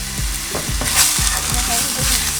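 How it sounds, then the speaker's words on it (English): Egg fried rice with onion, salt and pepper sizzling loudly in a pan, with repeated scraping stirs at a steady rhythm, close and without speech. "Give it a little bit of a stir"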